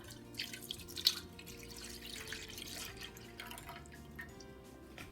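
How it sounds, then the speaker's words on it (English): Whole milk pours into a large pot set over medium heat, a soft, steady liquid trickle with faint splashes, quiet and close, with no talking. "We're going to add in 2 cups of whole milk."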